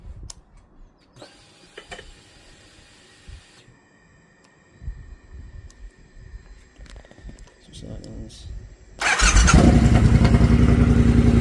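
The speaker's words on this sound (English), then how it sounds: "So let's try turn the engine on." A Triumph Bobber motorcycle fitted with LED indicators starts up: after quiet clicks and rustling, the engine catches and settles into a loud, steady idle filling the rest of the clip.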